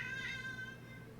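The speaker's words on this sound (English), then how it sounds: "that was a cat." A cat gives a single faint meow, a thin tonal cry rising then trailing off, heard at a distance over low background hum.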